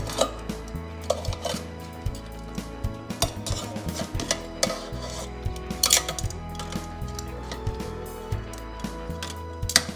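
Chicken wings flipped one by one in a metal air fryer basket, with repeated close clinks and scrapes of tongs against the wire mesh in an irregular rhythm.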